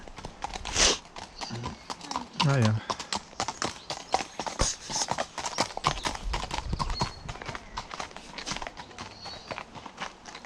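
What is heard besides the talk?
horse hooves clip-clopping on path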